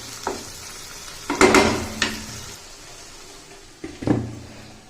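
Chana dal cooking in a pan with a little added water is stirred in a few distinct scraping strokes, each followed by a soft fading sizzle, with quiet gaps between and no speech.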